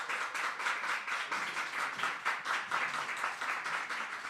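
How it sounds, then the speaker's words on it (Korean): A church audience claps steadily to welcome a missionary, with dense, moderately loud applause that holds throughout. "우리 큰 박수로 우리 환영하겠습니다."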